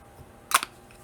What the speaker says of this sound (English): now I'm going to use a little bit of setting spray, and I'm just going to go in with the Tarte Stay Spray